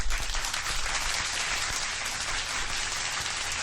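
A studio crowd on the Ultimate Fighter television show applauds loudly and steadily, a dense wash of many hands clapping that holds at even volume throughout, with no voices standing out.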